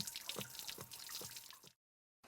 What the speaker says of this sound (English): remove the rod to allow the water to drain from the tank